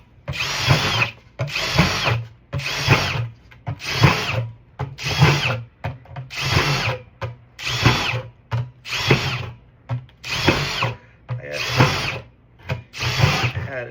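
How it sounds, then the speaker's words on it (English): A power drill whines in repeated bursts while drilling holes in a plastic bucket, about a dozen short runs with brief pauses between, close and loud. "You're gonna drill holes in one of them."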